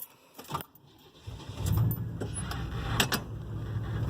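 An old truck engine sputters and struggles while running nearly out of gas, surging unevenly. Uneven clicks and rattles sit over a low, wavering rumble that grows louder toward the end.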